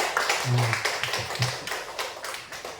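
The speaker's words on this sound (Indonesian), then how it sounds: "tepuk tangannya dulu dong" Audience at a school positive-culture dissemination event clapping, a short scattering of claps at a moderate distance that fades within a few seconds.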